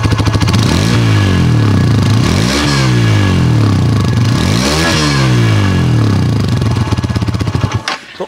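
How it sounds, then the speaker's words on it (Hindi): A Hero Xtreme 160R 4V motorcycle idles in neutral with its engine running, giving a loud, steady exhaust note with a throbbing pulse and slight rises in revs before it cuts off near the end. "एक बार मैं एग्जॉस्ट की आवाज़ आपको सुना देता हूँ ऑन करके बाइक को"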